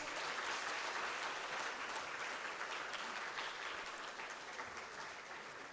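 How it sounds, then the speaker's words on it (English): An audience at a medical college white coat ceremony applauds steadily, a dense, even roar of many hands clapping that holds throughout and slowly softens. "Let's all give a big loud round of applause."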